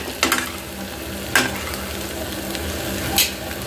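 Onions for mutton curry fry in a pan with a steady, moderate sizzle, broken by three sharp scraping stirs from a spoon against the pan.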